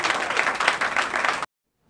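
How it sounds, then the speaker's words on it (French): Wedding guests at a French civil marriage ceremony applaud in a dense, steady burst of clapping that carries on for about a second and a half, then cuts off abruptly into silence. "Applaudissez"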